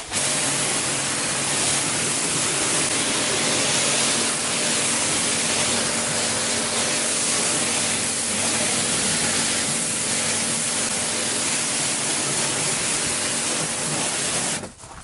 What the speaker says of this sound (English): I'll get the car rinsed off